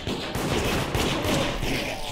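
Shotguns firing in the game Deceit, a dense, loud burst of overlapping blasts running continuously for a couple of seconds.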